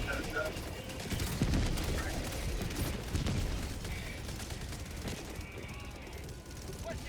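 Rapid automatic gunfire from a deployed sentry gun in the Helldivers 2 shooter game, sustained bursts cracking continuously over a busy battle mix with voices talking throughout.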